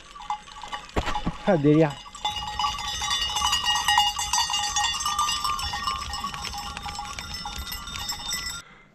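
A flock of sheep with bells passes on a Pyrenees mountain road during transhumance, bleating loudly up close as many bells clink and jingle continuously; a person exclaims briefly at the start.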